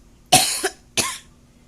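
Two sharp, wet coughs from a person about half a second apart, close and fairly loud, the first slightly longer with a short trailing catch, followed by quiet.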